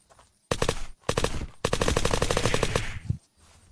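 Rapid automatic gunfire from the game Unturned rattles in three close, loud bursts, the last being the longest, with no talk over it.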